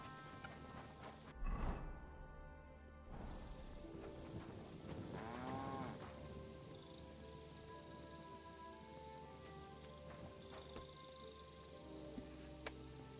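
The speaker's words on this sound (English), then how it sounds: "Guys, I hear a cow." Cow in the medieval video game Kingdom Come: Deliverance 2 lets out a low, drawn-out moo amid ambient countryside sound and a steady musical bed, moderately distant.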